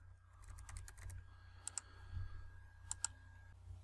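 Typing on a computer keyboard, heard as a quick burst of soft keystrokes followed by a few isolated clicks, faint and close in a quiet room with no speech.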